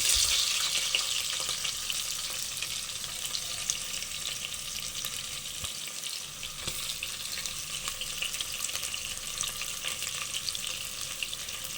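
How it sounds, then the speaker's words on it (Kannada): Spices, two green chillies and sliced onion frying in ghee for ghee rice, making a continuous close crackling sizzle with occasional stirring scrapes, no voices. "ಈಗ ಸ್ಪೈಸಸ್ ಎಲ್ಲ ಫ್ರೈ ಆಗ್ತಿದೆ"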